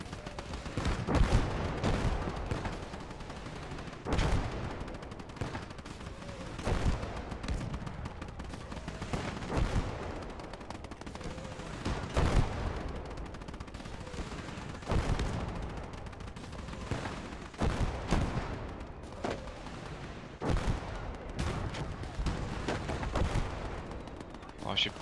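Battle in the World War II game Call to Arms: Gates of Hell Ostfront, Normandy last stand, brings repeated loud gunshots, machine-gun bursts and rocket or artillery blasts in an irregular barrage, with voices talking at times.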